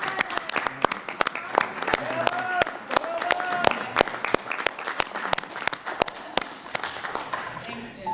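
Audience applause for an honoree at a public hearing, a dense steady patter of many hands clapping at moderate loudness for several seconds, with a few voices and cheers mixed in.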